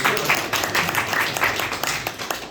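Audience clapping at a district meeting of a national poets' gathering in Singrauli, moderately loud and uneven, with scattered bursts of hands rising and falling over a few seconds.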